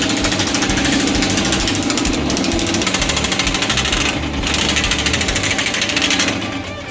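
A Baileigh industrial power hammer pounds sheet metal in rapid, steady machine-gun strikes, loud and close, with brief pauses and shifts as the panel is moved through the dies; no speech.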